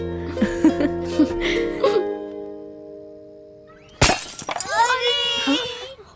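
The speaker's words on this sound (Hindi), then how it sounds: "फिर से कांच तोड़ दिया तुम लोगों ने।" A ball smashes through a window, a sudden loud crash of breaking glass after a quiet pause, with shards tinkling and voices reacting right after; talk and a melody are heard before the impact.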